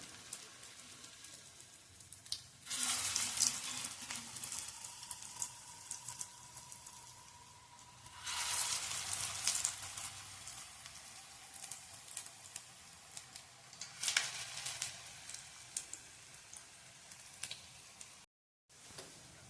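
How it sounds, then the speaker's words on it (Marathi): Hara bhara kabab tikkis pan-roasting until crisp in a little oil, giving a steady close sizzle and patter with several louder bursts of frying crackle spread through, no voices heard. "टिक्के आपण अशा पद्धतीने भाजून घेणार आहोत खरपूस"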